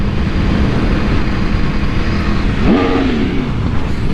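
An Aprilia Tuono V4 1100 Factory, a four-cylinder liter bike, runs loud and close in a steady drone, then gives one quick rev that rises and falls.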